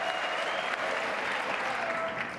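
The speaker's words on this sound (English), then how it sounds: "There's some good applause on both sides." Sustained applause from a crowd at the State of the Union address, a dense steady patter of clapping holding at an even level for the whole stretch before easing slightly at the end.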